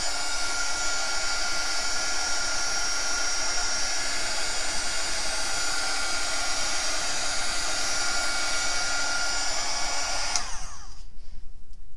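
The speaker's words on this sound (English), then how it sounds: "now, again, I'm gonna use my heat gun" A heat gun blowing over epoxy resin on a fairy light heart frame, a steady loud whooshing whine held continuously before cutting off abruptly near the end.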